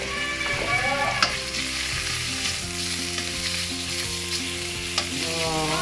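Bacon sautéing in butter in a pan for creamy carbonara, a loud continuous close sizzle with stirring and a few utensil clinks, no voices.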